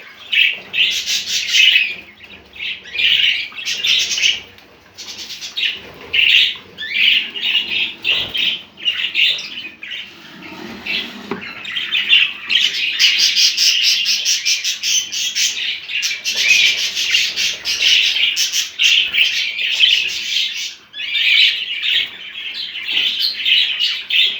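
Budgerigars chatter and chirp in a home breeding cage, a dense, continuous stream of high, twittering calls with short squawks and occasional wing flutters, close and fairly loud throughout.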